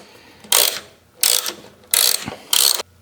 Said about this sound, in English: these are just some 10mm bolts. Let's go ahead and get these off and take this light off.